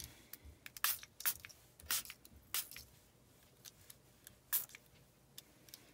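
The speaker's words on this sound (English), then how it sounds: "And you can see I spritzed some green over the top." A spray bottle spritzing homemade ink spray made from hybrid reinkers: several short, sharp hissing bursts at irregular intervals, close up, with faint handling noise between them and no talking.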